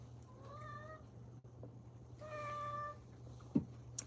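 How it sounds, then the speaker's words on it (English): A pet cat meows twice up close, each call a clear drawn-out cry, over a faint steady background hum. "So my Garfield kitty is by my legs right now."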